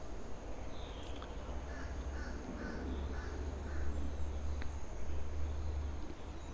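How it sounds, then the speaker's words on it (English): A big crow cawing from trees in woodland deadfall, a run of five or six evenly spaced harsh caws at moderate distance over a low background hum. "There's a big bird."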